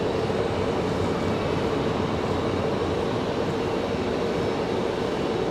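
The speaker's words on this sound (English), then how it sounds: "Always fun to watch these ATRs come in." An ATR turboprop airliner approaches to land nose down at Raleigh-Durham airport at night, a steady broadband roar with a low droning hum holding constant and fairly loud throughout, no voices.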